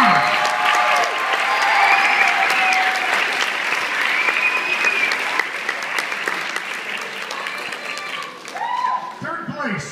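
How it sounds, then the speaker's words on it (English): A crowd applauds loudly and continuously with scattered cheers and whoops, the clapping thinning out toward the end as voices rise. "I want to give one big last round of applause to all 14 contestants."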